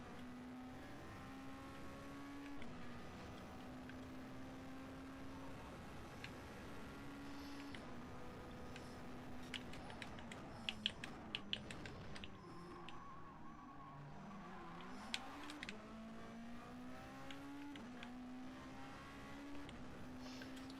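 A race car engine in GT Sport droning steadily as it laps, rising and falling in pitch through gear changes, with brief tyre squeals partway through, faint and distant throughout.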